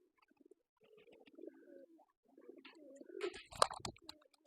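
Pigeons on a pigeon farm coo in soft, low murmurs close by while feeding, mixed with light pecking and shuffling that grows busier toward the end.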